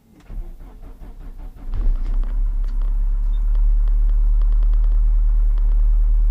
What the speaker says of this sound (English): we're going to go ahead and do a cold start. This is the first start for the car today.